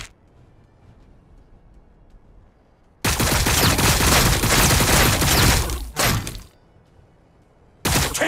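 Battle gunfire in Warhammer 40K Battlesector breaks out as a loud, close fusillade of rapid automatic shots, running about three seconds before cutting off, then another short burst.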